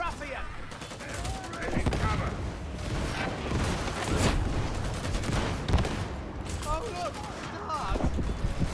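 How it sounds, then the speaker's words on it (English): Shotgun blasts in Warhammer 40k Darktide ring out repeatedly amid a chaotic firefight, mixed with other gunfire and impacts, with voices talking throughout. "There's a guy shooting a shotgun up here"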